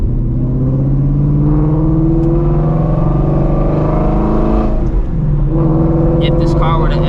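A Shelby GT350 fitted with a Borla exhaust pulls hard and steady, its deep engine drone climbing in pitch with a brief lift near the end before the power comes back on, loud and close throughout.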